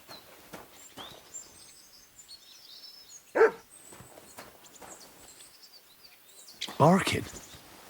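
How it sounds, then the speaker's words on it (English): Dog barking in Kingdom Come: Deliverance 2, two distinct bursts a few seconds apart, the second louder and longer, amid game ambience with faint hoof clops and footsteps. "Barking?"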